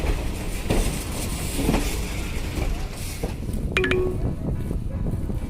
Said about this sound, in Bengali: ট্রেন আস্তে আস্তে ছেড়ে আমাদের চলে গেল